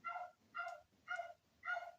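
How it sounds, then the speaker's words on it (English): A dog barks four times at a steady, evenly spaced rhythm, fairly soft and a little distant, with no one talking. "There's a doggy."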